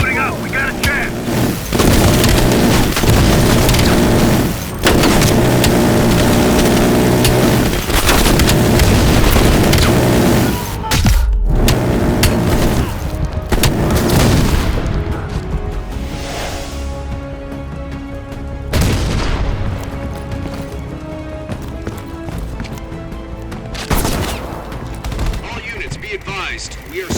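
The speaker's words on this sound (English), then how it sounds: "1 minute to bomb strike" Heavy bursts of gunfire and booming explosions ring out during a bomb strike in Call of Duty: Black Ops Cold War, with dense volleys and blasts up front that thin into scattered reports and sporadic echoing booms, with speech in between.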